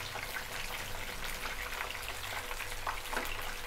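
Chicken kebab pieces shallow-fry in a little oil on low heat after being turned, a faint, even bubbling sizzle with occasional soft pops, steady and quiet.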